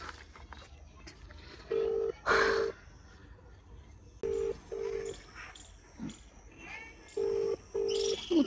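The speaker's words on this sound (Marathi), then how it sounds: "उचलत नाही आहे फोन." Unanswered outgoing phone call, its ringback sounding as repeated pairs of short beeps with pauses between them, over background noise and brief murmured speech.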